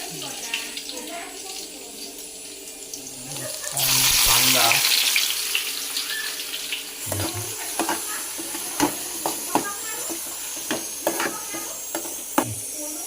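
Garlic hits hot oil in a kadhai for a fish curry, a loud broadband sizzle bursting up and settling into steady frying crackle with scattered pops and clinks, no one talking over it.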